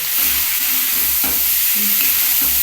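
Vegetable peels for a bottle gourd mash sauté in hot oil, a loud dense continuous hiss close by, with faint soft stirring scrapes beneath and no speech.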